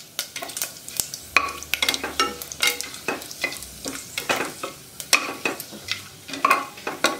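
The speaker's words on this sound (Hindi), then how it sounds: "पहले फोड़नी को अच्छी तरह से फ्राई कर लूँगी।" Bay leaf, red chili, cumin, cinnamon and cardamom fry in hot oil, a low sizzle under repeated sharp clinks and scrapes of a spoon stirring against the pan in an irregular rhythm.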